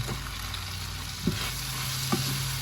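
Frying food being stirred with sugar and black soy sauce, a constant loud sizzle in the pan with two brief knocks of a utensil mixing against the pan.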